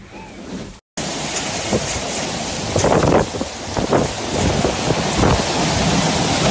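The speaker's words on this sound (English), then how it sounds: "Sicily, Italy's largest island, has been hit one of the strongest storms in the recent times." A heavy thunderstorm over Sicily sends dense, loud rain hissing steadily, with low rolling thunder swelling now and then and wind buffeting the microphone, after a brief cut at the start.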